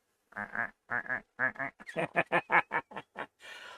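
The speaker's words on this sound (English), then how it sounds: "He's a duck." Duck in Tomb Raider Remastered quacking in a rapid series of about a dozen loud, close quacks, doubled at first then faster, ending in a noisy burst.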